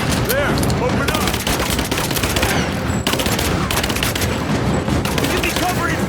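Gunfire in the Rise of the Tomb Raider video game: dense, rapid bursts of shots and impacts that fill the whole stretch, loud and close, with shouted voices mixed in.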